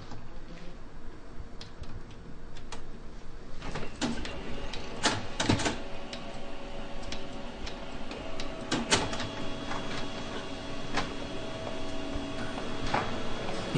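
HP Color LaserJet 3800n and 2600n printers run off demo copies, with a steady mechanical whir broken by irregular clicks, ticks and clunks of paper feeding.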